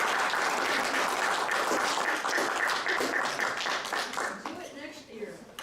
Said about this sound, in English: Round of applause for Ms. Ruby.